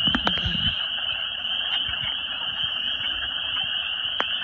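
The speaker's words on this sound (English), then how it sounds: "Ooh, the froggies." Spring peeper frogs calling, a dense continuous chorus of high shrill peeps forming a steady ringing wall of sound, with a few brief knocks at the start.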